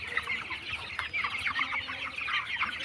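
Broiler chickens on a farm clucking continuously, many overlapping bird calls forming a busy, steady flock chatter at moderate distance, with no talking.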